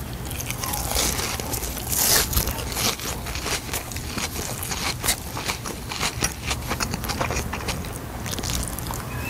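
Crisp, crunchy bites and chewing on a deep-fried pork cutlet rolled with gondre greens, served with rice bread, repeated crackling crunches close to the mic with no talking.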